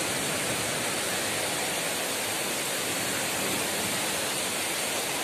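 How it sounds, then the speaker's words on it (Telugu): Steady, dense wash of heavy rain with water pouring down outdoor steps, a constant broadband roar that stays even and close throughout with no voices. "అబ్బా చూసారుగా ఎంత పెద్దగా ఉందో వర్షం"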